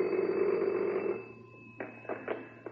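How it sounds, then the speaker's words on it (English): An inspector's telephone rings with a steady electronic trill at first, then fades into quieter clicks and brief tones, heard alone without talk. "Before long, the inspector's phone rang."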